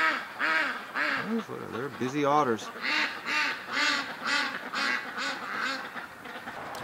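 Domestic ducks quacking repeatedly in a steady, rhythmic series near a backyard lake, with one louder burst of rapid calls midway, while a person talks over them.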